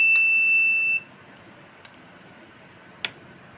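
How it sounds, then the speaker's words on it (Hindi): A prepaid energy meter's tamper alarm buzzer sounds a steady, piercing high beep for about a second, then cuts off, followed by a couple of faint clicks in a quiet room. "ये मैसेज हमारे पास लगातार आता रहेगा जब तक ये खुला रहेगा, और बजर भी ऑपरेट होता रहेगा।"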